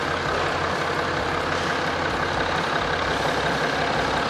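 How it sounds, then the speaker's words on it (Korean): A BMW 730Ld diesel seven-series sedan idles with the engine bay open, giving a steady, even rumble that holds constant throughout with no voices. "엔진 소리 일정하고 좋습니다."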